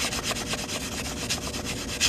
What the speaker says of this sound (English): What I'm doing right now is I'm just sanding this cut edge